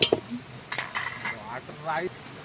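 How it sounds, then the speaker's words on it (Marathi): A metal lid lifted from a pot of rice, giving a quick clink and a few scraping, ringing touches of cookware, with people talking close by. "भातावरचं झाकण इकडून काढलं तर."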